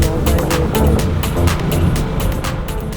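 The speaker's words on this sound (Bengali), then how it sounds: "আমাদের বাইক এগিয়ে চলল তারাশের দিকে" A motorcycle travels along a road in Bangladesh, moving from Sherpur toward Tarash. A loud, steady rush of engine and wind runs throughout, with some buffeting and no speech.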